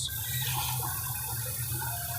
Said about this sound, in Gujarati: આપણે પાણી નાખ્યું છે